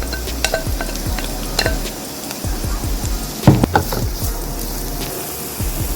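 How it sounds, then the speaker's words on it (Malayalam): Chopped shallots sauté in oil left from frying pearl spot fish for Karimeen pollichathu, giving a steady frying hiss with repeated scraping stir strokes and a few sharper clatters of a utensil against the pan. "നമുക്ക് ഇതിലേക്ക് നമ്മൾ അരിഞ്ഞു വെച്ചിരിക്കുന്ന ചെറുള്ളി ഇട്ട് കൊടുക്കാം. എന്നിട്ട് നല്ലതായിട്ടൊന്ന് വഴറ്റിയെടുക്കണം."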